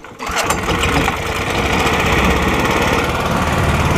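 A river boat motor starts and then drones steadily and loudly at close range, a continuous buzzing engine note with no talk over it.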